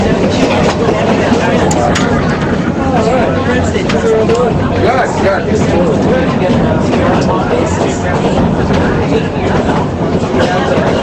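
Durango and Silverton narrow-gauge train climbing a grade, a steady loud rumble and rattle of railcars running throughout with a babble of passenger voices mixed in.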